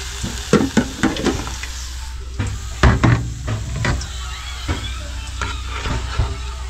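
Fish frying in a home pan in the Philippines, giving a loud, continuous sizzle with scattered pops and scraping knocks from stirring.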